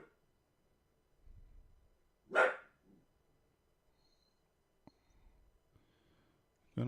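A dog lets out one sharp, fairly loud bark in an otherwise quiet room, followed by a faint grunt and scattered small knocks.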